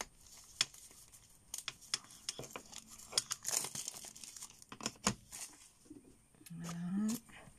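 Plastic packaging of Distress Oxide ink pads crinkles and tears as it is opened by hand, a close, quiet run of scattered crackles, pops and rustles.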